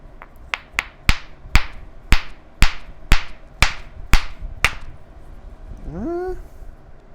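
Hammer stone strikes on a piece of Swan River chert during flintknapping: ten sharp, ringing knocks at a steady pace, close and loud, followed by a short rising squeak-like tone at the end.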